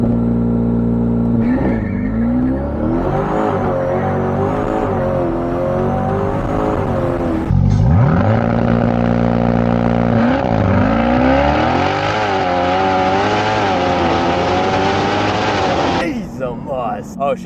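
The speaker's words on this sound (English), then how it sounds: "Oh God, the sound is just insane. Launch control, Procharged C8." A Procharged Chevrolet Corvette C8 launches hard on launch control, its engine roaring loud and close as revs climb through several gear pulls, with an excited voice talking over it.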